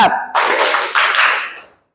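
A classroom of students claps together in a counted rhythm, a loud burst of hand claps that swells, briefly dips, then fades out to silence.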